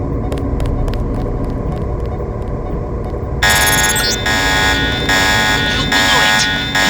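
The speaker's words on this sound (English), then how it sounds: "The alarm just closed the north door." Alarm in the Deus Ex video game going off abruptly after a stretch of droning ambience with faint ticks, then a loud, steady multi-tone electronic blare sustained to the end.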